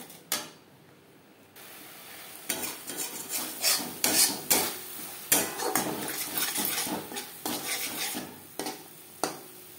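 Ground cumin and coriander spices stirred in a pan for a pomfret fish curry, a series of sharp scraping strokes of a utensil against the pan, fairly quiet and close, with pauses between strokes and no voices.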